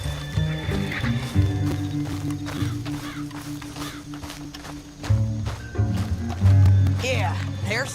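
Horse hooves clopping and a horse neighing in Red Dead Redemption 2, the whinny rising near the end, mixed with a steady music bed and game sounds, with people talking over it.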